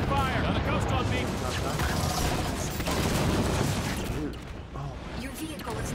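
Sustained gunfire and combat noise in the Halo 5 campaign, dense and continuous bursts under game voices and speech, easing slightly near the end.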